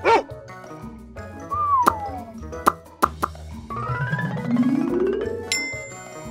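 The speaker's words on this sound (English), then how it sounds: "dog." A single short dog bark opens, followed by playful cartoon sound effects: pops, a sliding whistle, plinks and a rising musical sweep.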